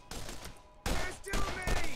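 Video game gunfire in Borderlands, two or three loud bursts of shots in quick succession over a noisy in-game background, with no talk.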